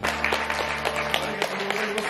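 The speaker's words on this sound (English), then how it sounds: "I don't know why they're clapping" Audience clapping in a comedy theatre in Japan, a steady patter of many hands with a few sharper individual claps and a low hum underneath.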